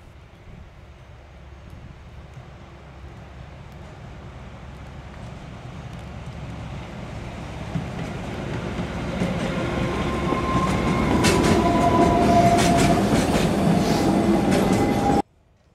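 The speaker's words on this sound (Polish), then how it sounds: "nadmorska kolej wąskotorowa ponownie wróciła na trasę" A narrow-gauge seaside railway train approaches, its rumble and rattling wheel noise swelling steadily from a low background to a loud, close roar, with a brief high metallic squeal near the end before it cuts off.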